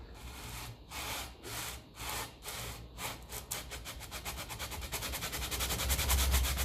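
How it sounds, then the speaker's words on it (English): Sandpaper rubbed back and forth on the underslung exhaust of a 1954 Ferguson 20 TEF diesel tractor, a rhythmic scraping of regular strokes that grow quicker and slightly louder toward the end. "I'm just giving it a rub of sandpaper maybe"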